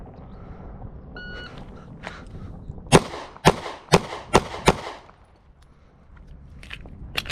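A string of five sharp, closely spaced shots from an S&W Shield 1.0 pistol at an outdoor range, loud and near with faint echo, then quiet with a distant crack.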